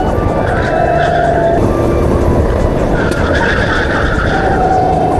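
Race car circling Daytona through turn 9 in a 24-hour endurance race, a steady loud engine drone with tire scrub and slight pitch shifts as the car hops over the axle, continuous throughout and without talk.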